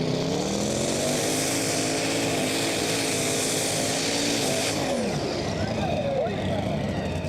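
Little Rascal, a modified-class pulling tractor from Holland, roars through its test pull at a Eurocup tractor pulling event in Brande, Denmark, a loud sustained engine howl with shifting pitch, while a commentator talks over it.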